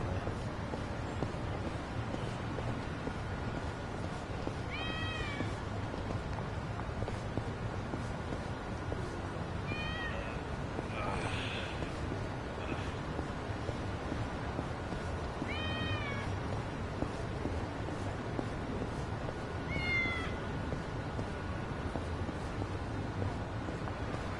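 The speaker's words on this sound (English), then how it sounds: "Where's this bloody cat?" Cat meowing in the video game Yakuza: Like a Dragon, four or five short faint mews spaced several seconds apart over a steady ambient hiss and wind-like background.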